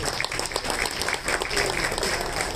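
An audience at a satsang at Shri Dham Nareshwar breaks into applause, a thick wash of clapping hands carrying on evenly for the whole stretch, moderately loud with faint crowd murmur beneath.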